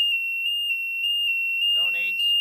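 A security system panic alarm gives a loud, piercing steady electronic tone that sounds continuously, with someone talking briefly near the end.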